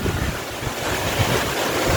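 Strong storm wind roars and buffets the microphone in a constant, loud rush with no break, and no voices are heard.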